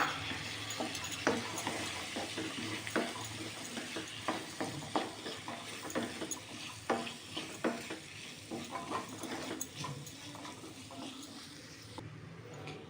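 Onion, tomato, boiled peas and potato fry in a pan, giving a steady soft sizzle broken by the scrape and clatter of stirring. The sound is close but fairly quiet, with no talking.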